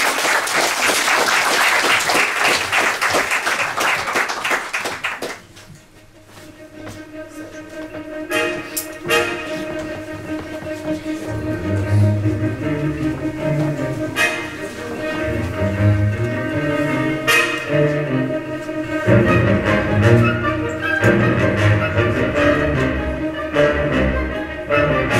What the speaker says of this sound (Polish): Wielkie brawa na zachętę.